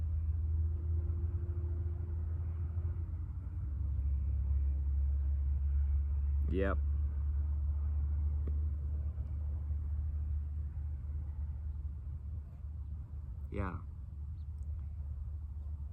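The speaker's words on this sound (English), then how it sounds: "Let me wait for this truck sound." A deep, continuous rumble of a passing truck fills the background, swelling slightly, while a person speaks two brief words over it.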